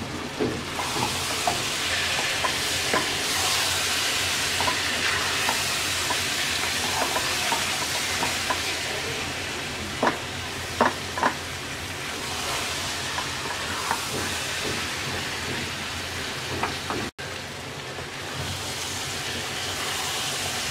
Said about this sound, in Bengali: পাঁচ মিনিট জলপাইটা তেলের মধ্যে ভেজে নেওয়ার পর